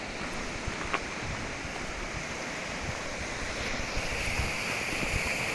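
Quartzville Creek, a river, rushes by in a steady broadband roar of flowing water with some wind buffeting, close and continuous throughout without voices.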